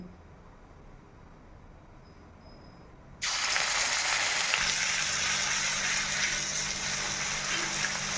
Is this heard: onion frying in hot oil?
yes